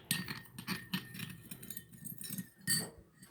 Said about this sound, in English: take 1 teaspoon of sugar, add it in water, stir the solution